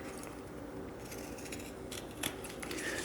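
Scissors snip through kinesiology tape several times to round off its corners, quiet close-up cuts with one sharper snip, against a faint room background.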